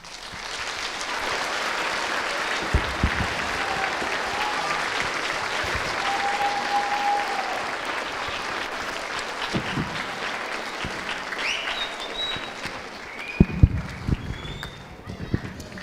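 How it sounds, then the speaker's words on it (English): Students clapping at a middle school Veterans Day assembly, broad sustained applause filling the room for about sixteen seconds with scattered louder claps and thumps, a few whoops rising over it near the end. "Let's give him one more round of applause, guys."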